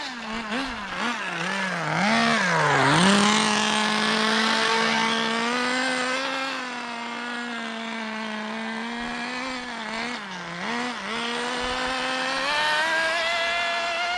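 A Kyosho Ford RS500 RC car's small nitro engine runs close by, revving up and down in wavering bursts before settling into a steady, slightly sluggish high-pitched drone with occasional throttle blips.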